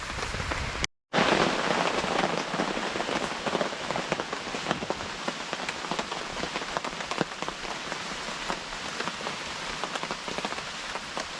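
Steady, dense rain drums on a tent during a rainy camping trip, a loud, continuous patter with one brief gap of silence near the start.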